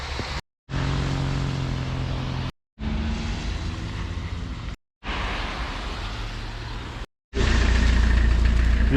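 Traffic rumbles along the central road of Shamalgan village in Almaty Region, Kazakhstan, with a loud continuous roar of passing cars and engines in several short stretches broken by brief silent cuts.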